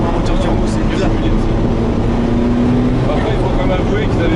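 A Ferrari F40 twin-turbo V8 drones loudly and continuously from inside the moving car, a steady low engine hum with rising whine, with people talking over it.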